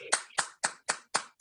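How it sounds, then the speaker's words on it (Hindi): Steady, rhythmic clapping welcomes a singer at a Diwali music celebration: six sharp, evenly spaced claps, fairly close and loud, with no voices over them. "जोरदार तालियों से स्वागत"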